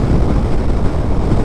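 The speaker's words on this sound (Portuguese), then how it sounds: "tá um vento contra, lá as árvores mexendo. Eu, ventania contra" A strong headwind buffets a rider on a 2024 Yamaha XMAX 250 scooter at highway speed, a loud constant low roar of wind rushing past with no pauses.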